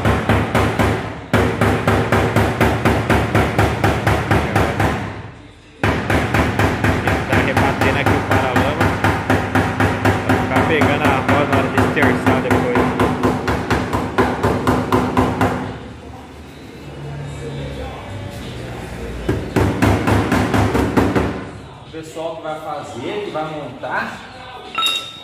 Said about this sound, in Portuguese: porque é o martelo de borracha